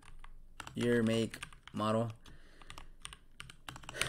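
Quick, light computer keyboard typing in short clattering bursts close by, between and beneath someone speaking while he fills in a form.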